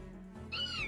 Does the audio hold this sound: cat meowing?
yes